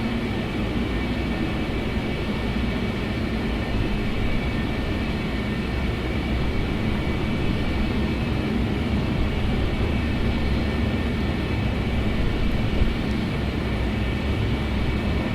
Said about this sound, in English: Just taxiing here, go for the nearest gate, and call it a video.